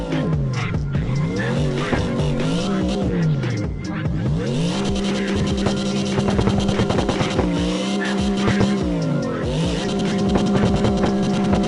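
Race car in the CarX racing video game, a loud, continuous engine roar that rises and falls with revving and gear changes, with tire squeal throughout.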